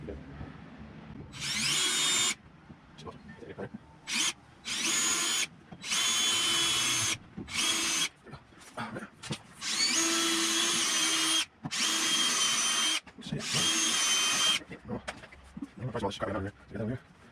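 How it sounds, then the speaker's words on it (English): A power drill drilling mounting holes for Lenco electric trim tabs on a boat whines in repeated loud bursts of a few seconds each, starting and stopping irregularly, with brief pauses between runs. "we're going to line this up, get it leveled, drill the holes"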